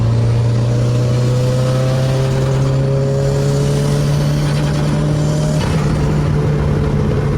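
A motorcycle engine with a newly fitted air filter runs loud and close, its steady drone slowly climbing in pitch as it revs.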